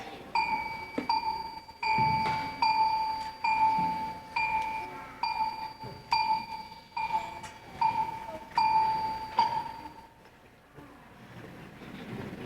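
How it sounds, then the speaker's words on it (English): A clock strikes midnight with a regular series of clear, ringing bell chimes about three-quarters of a second apart, each tone lingering and overlapping the next before the strokes stop and the sound fades. "it was then that a clock struck midnight"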